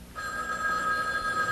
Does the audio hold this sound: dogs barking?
no